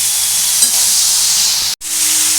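Eggplant curry (masala begun bhaji) in a frying pan gives a loud, steady, close sizzle and hiss throughout, briefly cutting out near the end.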